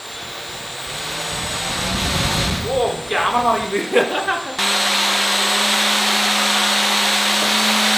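A Turnigy 1450 kV drone motor spun up on a bench, an abrupt shift into a steady high whine with a low hum beneath it after a man exclaims briefly, continuing loud to the end.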